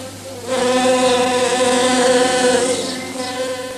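A bee buzzes steadily around a flower, a continuous close drone that swells after a quiet start and holds without talk.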